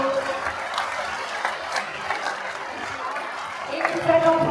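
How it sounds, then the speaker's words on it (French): An audience at a prize-giving ceremony claps and murmurs in a moderate, uneven patter, with crowd noise and some voices mixed in. "Je crois que vous pouvez les applaudir et faire un applaudissement."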